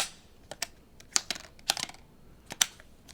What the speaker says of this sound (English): look at these new sliding magnetic levers here, like the sound.